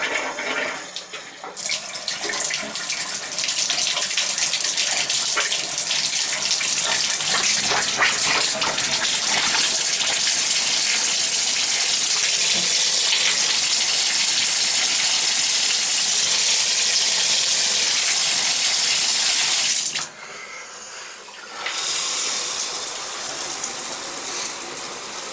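Water gushes steadily from an opened line while a summer home's hot water tank is purged of air, a loud continuous rush that stops briefly near the end and then resumes.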